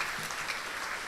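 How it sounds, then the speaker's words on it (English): A short burst of audience applause at a primary school graduation ceremony in a resort venue, a steady wash of many hands clapping at moderate distance. "Let her give you a round of applause."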